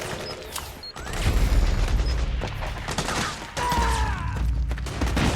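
Dense bursts of soldiers' gunfire crackle through a Metal Gear Solid 4 battle, rapid overlapping shots and mechanical clatter that swell and ebb over several seconds, loud and busy.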